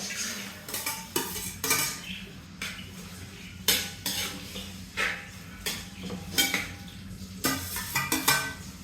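Onions and other chicken curry ingredients go into hot oil in a pan and are stirred, with a steady sizzle under frequent clanking spoon-on-pan scrapes and knocks close up and no voices.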